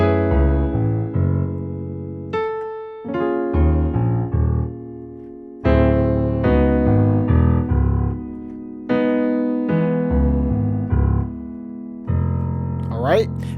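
Solo piano playing the third bass-line variation of a song from the top, with chords and low bass notes in a looping pattern of phrases separated by short pauses, close and clear, ending with a rising high flourish.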